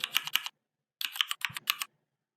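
Close, crisp typing on a computer keyboard comes in two quick bursts of rapid key clicks separated by a short silence, with no talking.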